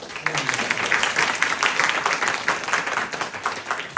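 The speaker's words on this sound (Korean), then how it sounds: "우리 박수로 함께" A military church congregation applauding during Sunday worship to welcome a new member, steady clapping with some louder individual claps.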